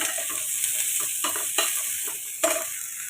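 Potatoes and cauliflower sizzle steadily in hot oil in a pan while cooking for a fish curry. A few louder scraping stirs break through the close, continuous frying hiss.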